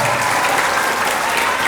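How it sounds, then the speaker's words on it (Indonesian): Audience at an Indonesian morning talk show applauds loudly and steadily, a dense sustained burst of clapping from a crowd in the room. "Tepuk tangan."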